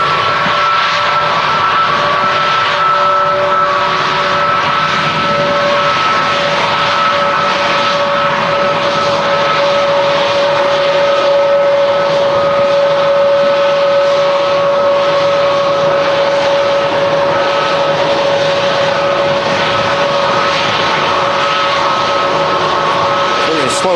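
A passenger airliner taxis slowly at Manchester Airport, its engines producing a loud, constant whine with a steady tonal hum that holds without a break.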